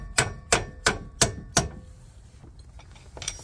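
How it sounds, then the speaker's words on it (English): A hammer taps out the rear shock bolt on a Hyundai Sonata during brake work: five sharp metallic strikes in an even rhythm, close and loud, followed by fainter clinks and shuffling. "I'm just gonna use a hammer, tap it on the other side and push it out."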